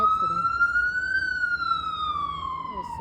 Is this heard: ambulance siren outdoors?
yes